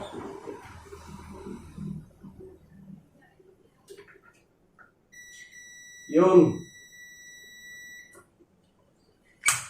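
A circuit tester gives a single high, steady beep lasting a few seconds when a light switch on a three-gang switch installation is turned on. Someone talks before it and says a short word partway through.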